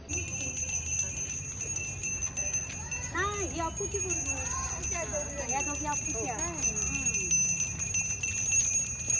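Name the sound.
hand bells rung by girls walking in procession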